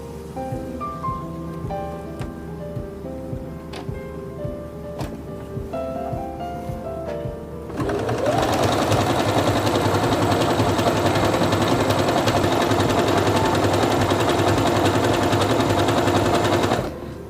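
A Singer Quantum Stylist 9960 sewing machine stitches out a decorative pattern at normal elongation, a loud, continuous close whirr that starts abruptly after a quiet stretch with faint tones and runs without pause.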